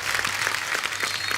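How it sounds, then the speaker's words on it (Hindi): Studio audience applause on a Hindi TV comedy talk show, a steady wash of clapping sustained through the moment, fairly close and continuous with no talk over it. "जोरदार तालियां दिव्या और दर्शन के लिए"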